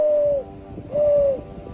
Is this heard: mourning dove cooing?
yes